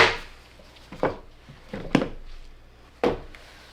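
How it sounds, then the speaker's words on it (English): Knife cutting through a loaf of handmade soap into bars, a few separate soft chopping strokes spaced about a second apart, fairly quiet and close with a low background hum and no talk. "let's go ahead and cut this into bars"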